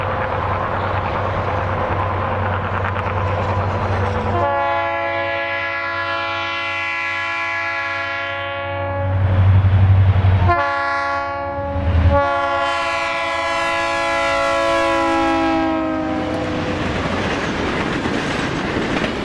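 A Norfolk Southern freight train passes close by, its multi-chime horn blaring in long sustained blasts over a low rumble of locomotive and rolling cars, the horn breaking briefly before sounding again.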